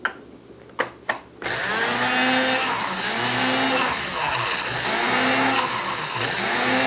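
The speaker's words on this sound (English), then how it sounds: "we're going to grind these seeds in the Mooley seed grinder" Mouli seed grinder grinding caraway and dill seeds, opening with a few short taps before the motor starts a loud, steady whirring grind with a pulsing rhythm, close up.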